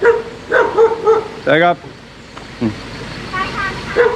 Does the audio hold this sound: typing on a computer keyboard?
no